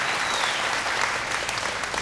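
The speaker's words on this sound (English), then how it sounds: "Round of applause, please, for our sponsors." A crowd at a Vocal Fusion Season 5 singing competition show applauds the event's sponsors, producing dense, even clapping that fills the whole short moment without pause.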